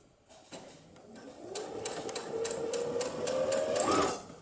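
A sewing machine stitches a knit V-neck neckband, its motor whirring up from a short start into a steady, rising run of rapid stitches before stopping, close and fairly loud.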